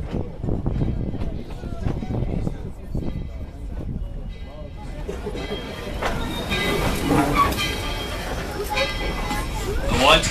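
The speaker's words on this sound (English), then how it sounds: "please remain seated until the train has come to a complete stop" The Tweetsie Railroad train rolls along with a low rumble and rattling cars while a crowd of riders chatters and talks throughout, the noise building toward the end of the last ride of 2014.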